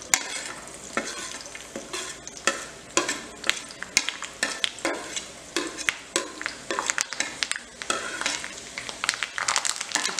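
Curry leaves, amla and onion are stirred in hot coconut oil for homemade hair oil, with repeated rhythmic spoon scrapes and clinks against the pan over a soft sizzle, close and alone.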